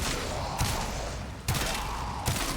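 The Sepulcrum gun in the Warframe video game fires three heavy, booming shots at roughly even intervals over a constant low rumble of background game noise.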